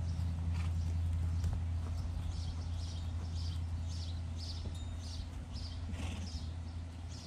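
A horse in training moves about, its hooves thudding and clopping irregularly at moderate distance over a steady low outdoor hum.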